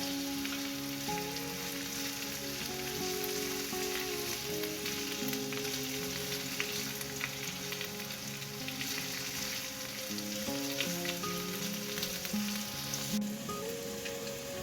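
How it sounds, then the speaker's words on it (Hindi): Pistachios and raisins frying gently in desi ghee on low heat for sheer khurma, producing a soft, steady crackling sizzle with quiet background music throughout. "पिस्ता, किशमिश, ये सब चीज़ें डाल के हम इसे हल्की सी आंच पे फ्राई करेंगे"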